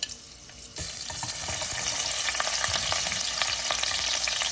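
Onions hit a pan of hot oil for Chinese egg fried rice and start frying with a loud, steady sizzle that fills the scene after a quiet start, with a faint stirring texture underneath.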